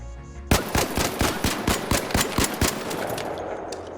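Venator gun fired in ARC Raiders on a training ground: a burst of about ten sharp, evenly spaced loud shots in quick rhythm, ringing out close.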